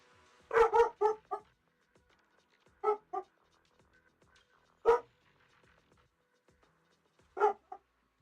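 A dog barks repeatedly indoors, a quick burst of three or four loud barks followed by scattered single and double barks with quiet gaps between them.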